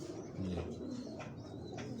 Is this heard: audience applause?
no